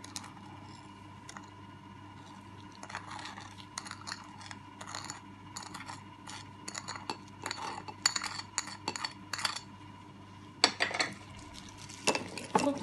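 A spoon clinks and scrapes steadily against the inside of a glass, stirring instant coffee, sugar and water for iced coffee, with a faint hum running underneath.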